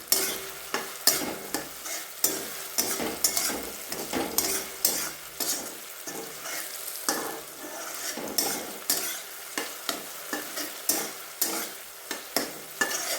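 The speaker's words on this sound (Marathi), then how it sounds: "टमाटा पण चांगला परतून घ्यायचा" Broken chilies and tomato sauté for a dhaba-style dal tadka, the spatula scraping and knocking the pan in a quick, regular rhythm over a continuous close sizzle.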